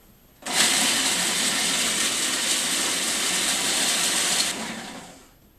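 A kitchen food processor chops raisins for homemade gingerbread, starting abruptly into a loud, steady, rough whirring roar that holds for about four seconds and then winds down, with no voices.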